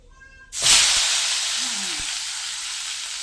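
Fried fish tipped into a hot kadai of oil bursts into a loud sudden sizzle that holds as a steady close hiss, with a faint voice in the background.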